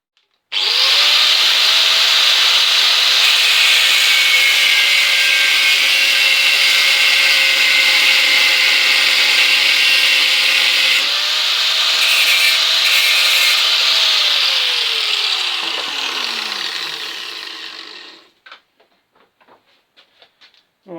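A power tool cuts steadily through a part down to its shoulder during a minilight fitting on a classic car. The whine is loud and close, with a continuous high grinding tone that drops in pitch near the end before stopping.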